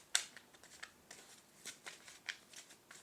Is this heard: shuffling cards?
yes